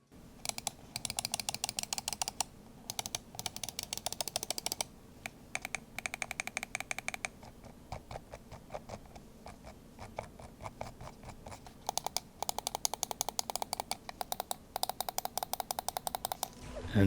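Rapid, crisp computer mouse button clicks in close succession, coming in bursts of steady rhythmic tapping with brief pauses, close and fairly loud with no talking.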